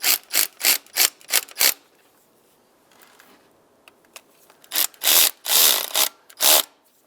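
A hand ratchet snugs up intake bolts on a 2007-2015 Mazda CX-9, swinging in quick, loud, evenly spaced clicking strokes, then a quiet pause, then another run of longer, heavier strokes up close.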